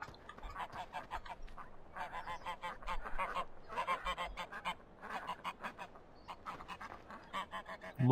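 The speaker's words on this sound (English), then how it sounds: "They could be geese actually." Geese honking repeatedly in bursts outdoors near water, a busy flock at moderate distance calling in overlapping, irregular clusters with brief pauses between.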